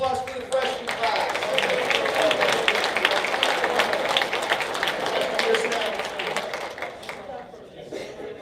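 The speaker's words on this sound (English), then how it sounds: "Let's have a round of applause for the freshman class." A room full of people at a 2021 high school football booster banquet applauds the freshman class with dense, steady clapping that holds strong for several seconds and then starts to fade.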